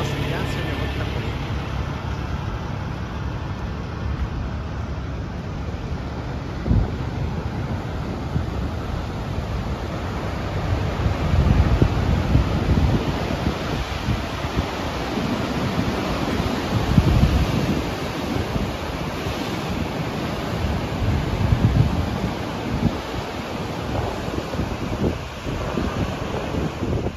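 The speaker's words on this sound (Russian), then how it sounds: "Вот у нас океан сегодня вот такой." Ocean surf rolls and wind buffets the microphone along California Highway 1, a loud, continuous roar with surging swells.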